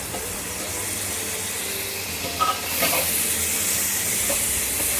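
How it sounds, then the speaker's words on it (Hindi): Two medium tomatoes, roughly chopped, are added to hot spiced oil with gram flour, and a soft background sizzle jumps to a louder, bright, hissing fry that holds steady to the end. "इसे भी हम जब तक फ्राई करेंगे टमाटर को, जब तक ये सॉफ्ट नहीं हो जाते"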